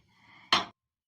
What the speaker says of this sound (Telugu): ఇగో ఈ గిన్నె పెట్టి